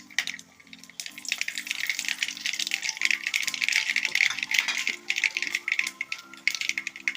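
Mustard seeds and green chilies frying in hot coconut oil give a steady, close crackling sputter that runs throughout, over soft steady tones in the background.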